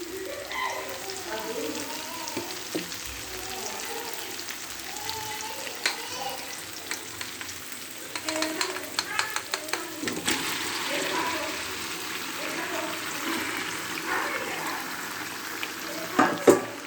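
Broiler chicken sizzles steadily in a pan after a cumin and black pepper paste is added, a continuous close frying hiss with stirring scrapes and bubbling pops throughout.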